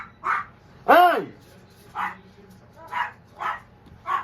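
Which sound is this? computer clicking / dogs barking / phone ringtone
dogs barking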